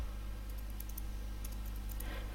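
Quick, light keystrokes on a computer keyboard while typing text into a Microsoft Word document, a loose run of faint clicks over a low steady hum.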